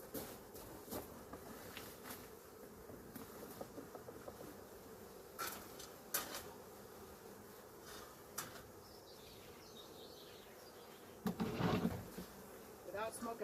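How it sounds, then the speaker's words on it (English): Honey bees buzz around an opened hive during an inspection, a faint, continuous drone with scattered closer passes and a few clicks and scrapes of handling. "I need to get as many bees out of the way as possible"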